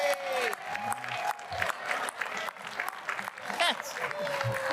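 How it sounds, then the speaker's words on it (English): Audience at a recovery-house world convention gives a round of applause, moderately faint scattered clapping mixed with cheering voices, whoops and talk throughout. "Let's have a round of applause for baby shark do-do-do-do."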